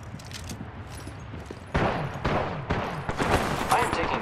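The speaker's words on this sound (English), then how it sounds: "I am taking fire." Rapid bursts of video game gunfire crackle loudly from the middle onward, dense and overlapping like automatic weapons, with speech mixed in over the shooting.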